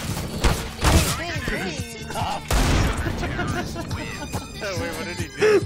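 Grenade detonating in Counter-Strike on the Mirage map, two heavy booming thumps about two seconds apart amid game gunfire and effects, with people talking over the action.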